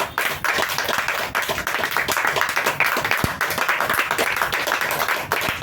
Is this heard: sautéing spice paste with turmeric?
no